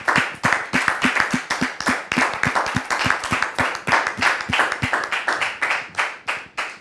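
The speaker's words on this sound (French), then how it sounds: "Public, merci de la recevoir avec vos applaudissements." A studio audience on a French television talk show claps warmly to welcome a guest, with dense, steady applause close by and evenly sustained throughout.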